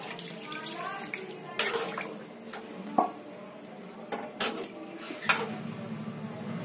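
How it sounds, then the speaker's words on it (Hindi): Water runs and splashes into a pot of chicken curry being cooked, a soft continuous pour broken by a few clanks and knocks of utensils. "अब इसमें थोड़ा सा ऐड करेंगे पानी, जितना तुम्हें झोल चाहिए उस हिसाब से।"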